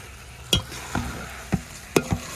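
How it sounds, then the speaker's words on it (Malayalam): Chicken is stirred into masala in a pan for chicken kondattam, with four or five sharp scraping strokes of a spoon over a soft sizzle, close and clear with no talking. "നമുക്ക് ചിക്കൻ ഇട്ട് കൊടുത്തേക്കാം. നല്ലപോലെ ഒന്ന് ഇളക്കി കൊടുക്കാം."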